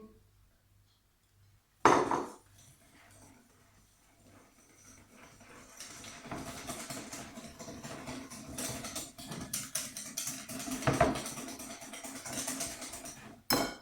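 Egg and spelt flour being mixed in a bowl, with steady scraping and clinking of a utensil against the bowl that grows busier over several seconds, ending with a sharp knock.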